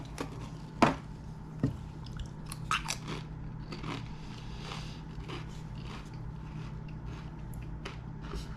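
Taco-flavored Pringles chips are bitten with a sharp close crunch, then chewed in softer, quieter crackles against a faint steady background hum.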